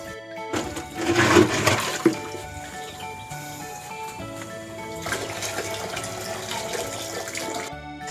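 Water splashes and gurgles as it is drained from a small backyard mangrove pond, a steady running flow that surges louder at the start and again midway.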